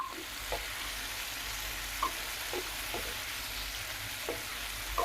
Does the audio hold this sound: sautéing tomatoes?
yes